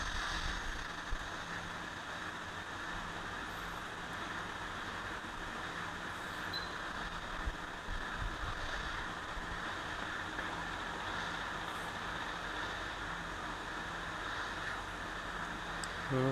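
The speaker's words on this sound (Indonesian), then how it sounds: "Nah baru kita blower teman-teman ya. Panas 340," A hot air rework blower set to 340 degrees and airflow 35 heats a Poco X3 Pro phone board, giving a steady, even rushing hiss that runs unbroken throughout with no talking.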